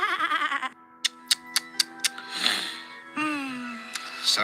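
An undead sheep in the Discworld 2 video game bleats in a string of short quavering bahs, close and loud, alternating with a voice imitating the bleats and stretches of speech.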